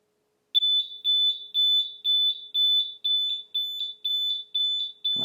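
An Eve Water Guard water leak sensor, its probe dipped in a plate of water, sounds its alarm: about ten loud, piercing beeps in an even rhythm, close and alone, ending with a short clatter.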